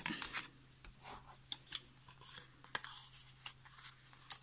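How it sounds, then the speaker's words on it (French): Paper being creased along the folds of a handmade Ferrero chocolate box, producing scattered soft rubbing and pressing scrapes at close range, quiet and irregular with no talk. "Donc maintenant, il suffit de marquer les plis."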